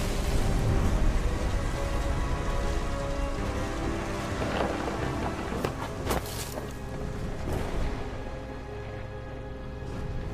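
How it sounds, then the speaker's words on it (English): Rain falls steadily in the What Remains of Edith Finch video game, with rumbles of close thunder and sharp cracks rising over the constant patter midway through. "The thunder sounded much too close and full of angry power."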